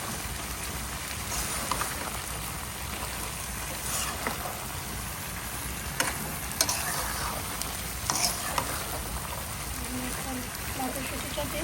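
Chicken liver, potato and green peas cook in a frying pan with a steady, dense sizzle throughout, broken by occasional scraping stirs and light knocks of a spatula, close and continuous.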